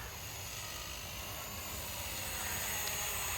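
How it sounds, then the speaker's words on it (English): A Blade 230s Smart v2 RC helicopter flies nearby, giving a steady, loud, continuous rotor and motor whine that builds slightly toward the end, with no talking. "I have some work to do with this helicopter"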